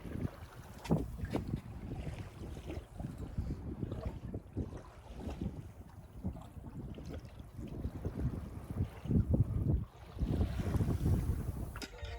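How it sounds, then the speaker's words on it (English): Sailboat under sail near Sidney, British Columbia, a continuous rushing of wind and water against the hull with heavy wind buffeting on the microphone, steady and close throughout, no voices. "we raised anchor and set our sails to sail all the way round to Sydney"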